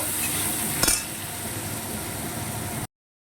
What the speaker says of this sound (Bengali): তেলের মধ্যে ঢেঁড়াগুলো দিয়ে দিলাম